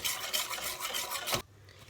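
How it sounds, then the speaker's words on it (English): Steady rapid scraping and swishing of a whisk in a pan as milk is whisked into a sauce, for over a second, then it abruptly stops, leaving quiet room tone. "just continue adding your milk as you are whisking"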